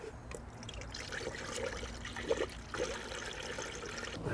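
Coolant trickles through a spill-proof funnel into the cooling system of a 2011-2020 Dodge Grand Caravan during a thermostat replacement, a soft continuous gurgling pour with faint bubbling, close and steady.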